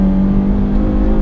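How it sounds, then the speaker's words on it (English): A 2015 Dodge Charger SE engine revs with a steady, loud, frantic-paced exhaust burble, a continuous close drone carrying a strong low hum that holds through the short stretch, with no talking over it. "it's got a nice burble to the exhaust note"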